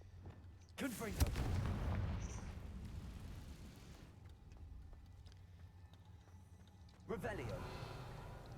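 A Confringo fire spell exploding in Hogwarts Legacy, a heavy booming blast with a rumbling tail, followed by a second burst near the end, over game ambience with a voice talking.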